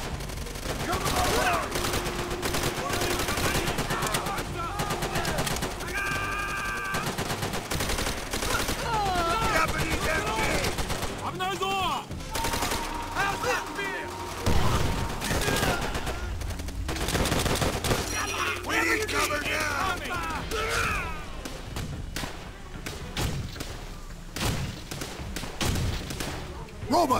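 Call of Duty: World at War battle with continuous gunfire: dense bursts of rifle and machine-gun fire and explosions, loud and sustained throughout, with shouted voices mixed in.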